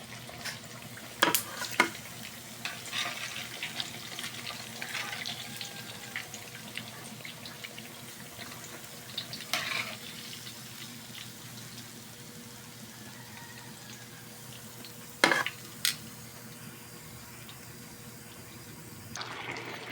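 Pork chop and tuna frying in a pan, a continuous soft sizzle with occasional louder clattering knocks and stirring scrapes, close by and without speech.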